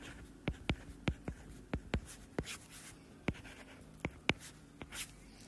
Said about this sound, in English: I'm going to write what I know here